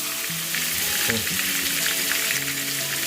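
Chicken pieces and spice paste sizzle steadily in a hot pan for chicken chaap, a continuous close fry with a few stirring scrapes and no voices.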